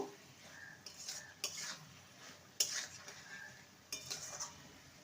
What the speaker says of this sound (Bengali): যেহেতু নিরামিষ রান্না চিনি দিলে স্বাদটা ভালো হয় স্বাদের একটা ব্যালেন্স হয় ভালো করে নেড়ে নেব